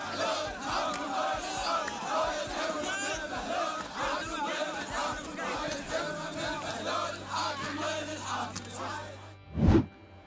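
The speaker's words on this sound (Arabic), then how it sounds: "حيث ردد المعتصمون هتافات ضد الأحزاب الحاكمة في ساحة الاعتصام" A crowd of protesters at a sit-in square in Muthanna province, Iraq, chants slogans against the ruling parties: dense, continuous massed voices throughout, with a brief loud burst near the end.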